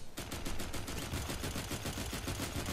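Rapid, evenly spaced shots from a sniper rifle in the video game FireFall, a fast regular rattle of repeated fire at low volume with no talking.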